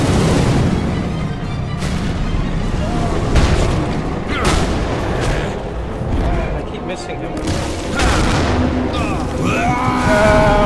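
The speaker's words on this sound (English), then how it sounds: "Oh wow, when they explode, that's bad." Skulls exploding in a co-op shooter video game set in Steel Town, heard as repeated booms and blasts through a dense, loud mix of game noise, with a voice talking over it.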